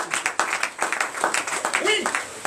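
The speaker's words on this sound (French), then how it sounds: "Donnez encore l'acclamation à ces." Congregation clapping and cheering during a Sunday church service, a dense wash of hands with voices mixed through it across the whole stretch.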